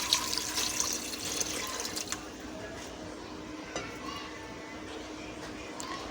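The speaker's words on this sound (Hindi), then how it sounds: "ये पानी शामिल करेंगे इसमें।" Water is poured into a pressure cooker holding meat for arbi gosht, a steady close splashing pour running throughout with a few faint clinks of the pot.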